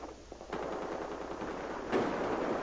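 Sustained automatic gunfire in the shooter Battlefield 4 on the Pearl Market map, a dense continuous rattle of rapid shots with a louder surge near the end, no voices.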